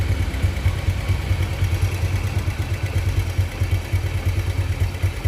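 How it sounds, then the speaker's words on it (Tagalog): Motorcycle engine with its fairings removed runs steadily close by, a loud, continuous low throb with rapid rhythmic pulsing and a clattery mechanical rattle, no talking over it. "Ayan yung makina yan."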